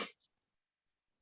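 A single short sneeze from hay fever, close and fairly quiet, followed by near silence and a faint sound at the very end.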